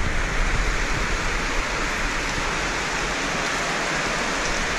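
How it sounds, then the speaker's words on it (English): Steady, loud rain pours down after stepping off a bus at Playa Langosta, a dense continuous hiss with no voices. "Why does it always rain right when we get off the bus?"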